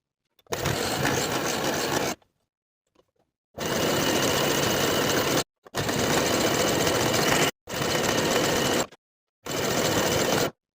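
A sewing machine stitches a jersey sleeve into an armhole with a 5/8 inch seam allowance, running in five loud, close bursts of rapid whirring separated by short silent pauses.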